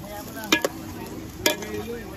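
Native chicken fries in a pot to render its fat, giving a low steady sizzle broken by a few sharp clanks of a utensil against the pot, close by.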